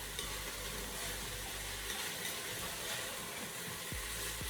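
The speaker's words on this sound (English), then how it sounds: "we're gonna just give this a little stir" Spanish lentil soup with potatoes being stirred in a pot on the stove, a continuous bubbling, simmering hiss with soft scraping of the spoon.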